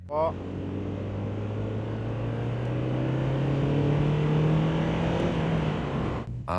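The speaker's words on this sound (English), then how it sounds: "I'm accelerating gently, shifting into 3rd gear" A turbocharged Mazda MX-5 accelerates gently, its engine drone climbing steadily in pitch, then dipping briefly as it shifts into third gear before pulling on, with wind noise around it.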